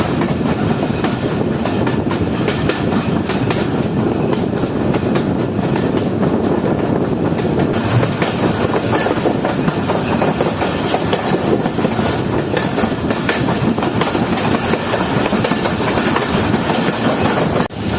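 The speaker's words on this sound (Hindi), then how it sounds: "तो ये जो ट्रैक साउंड है ये तो मेन लाइन 2 की पहचान ही है।" Jand Passenger train runs on Main Line 2, a loud, constant rumble of wheels on track with rapid clickety-clack rattling heard from inside the carriage throughout.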